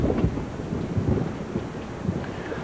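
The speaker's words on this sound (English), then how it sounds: "Storm might clear in a couple of hours." Thunderstorm at sea off a mangrove-lined island, with low rolling rumbles of thunder and steady rain and wind noise throughout, fairly close and continuous.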